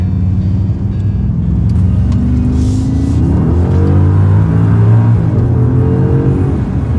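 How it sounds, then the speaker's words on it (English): A Maserati Ghibli Trofeo sedan accelerates hard, its engine note climbing steadily in pitch from inside the car, a strong but fairly smooth rumble with no talking over it. "Ridiculous acceleration. But not super loud."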